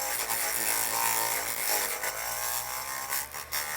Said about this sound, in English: It's just a little grinder. It doesn't have a tremendous amount of power or anything.